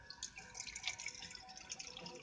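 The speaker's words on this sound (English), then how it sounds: "I'm gonna put water in there." Water trickles and drips into a small container for a rescued betta fish, a faint, light splashing with bright drip-like patter, steady and close with no voices.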